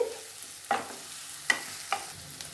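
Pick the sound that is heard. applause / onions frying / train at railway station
onions frying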